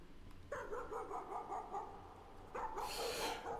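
A dog barks in the horror video game Layers of Fear, a few harsh barks and whimpers over a low droning game ambience, with a louder burst near the end.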